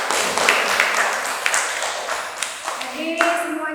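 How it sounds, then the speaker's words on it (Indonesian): An audience applauding a classroom presentation, brisk scattered clapping that fills the room at moderate volume, with voices murmuring underneath and a few clinks toward the end. "berikan aplaus untuk kita semua"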